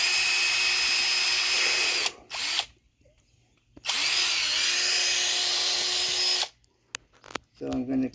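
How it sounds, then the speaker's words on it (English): A power drill whines loudly in two long bursts into wet wood with a short stop-start between them, then quiet gaps and a brief final rev. "I'm just going to drill around this"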